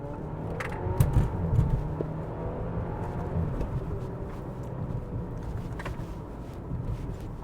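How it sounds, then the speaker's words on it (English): The 2-liter turbocharged four-cylinder of a 2021 Audi Q5 drones through a downshift, heard from inside the cabin as a muted, steady engine rumble with some wind and road noise. "not really the sound I'm looking for from this 2-liter turbocharged 4-cylinder"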